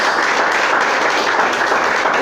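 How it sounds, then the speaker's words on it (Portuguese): A church congregation applauds, a dense, loud, steady wash of many hands clapping together with no break. "Pode aplaudir, glorificar."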